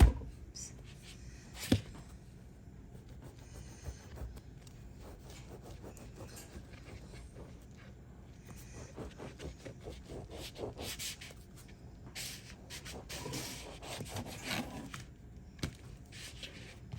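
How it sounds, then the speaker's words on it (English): Soft slider buns are sawed in half with a serrated knife, a steady, quiet rasping back-and-forth with occasional light knocks on the board, close by and without talk. "I'm going to cut these in two with the serrated knife."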